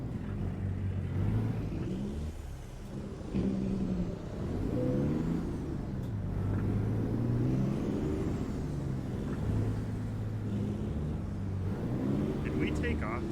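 A truck engine in a driving video game played with a steering wheel setup: a steady, loud engine drone that rises and falls with revving throughout, with a voice talking over it.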